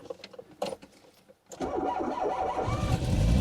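A Citroën BX 16-valve car engine, unused for 18 years and misfiring from bad leads, cranks briefly, goes quiet for a moment, then catches and roars into a rough, steady run that grows louder.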